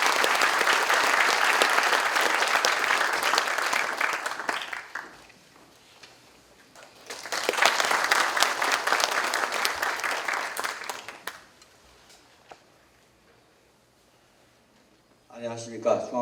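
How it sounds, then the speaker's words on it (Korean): An audience claps in welcome at a university's 107th anniversary ceremony, with two loud bursts of sustained applause separated by a quieter gap. A voice begins speaking at the very end. "큰 환영의 박수 부탁드립니다."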